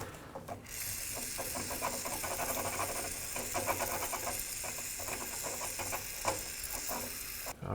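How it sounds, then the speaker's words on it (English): Rust penetrant sprays in a steady hissing stream onto the rear brake hose fitting of a 1997-2003 Ford F-150, close and continuous for several seconds with faint clicks mixed in. "Now I'm going to spray it again to clean it."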